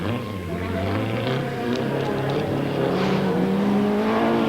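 A Nissan rally car running on special fuel races at a Belgian-Dutch rally challenge on the Valkenswaard Eurocircuit, its engine droning loudly and steadily with rising pitch, under constant commentary.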